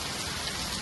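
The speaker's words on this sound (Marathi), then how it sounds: "जोरदार पाऊस आहे बघा." Heavy rain pours steadily and loudly in hilly, misty countryside near a resort in Karjat, a dense continuous roar with no voices.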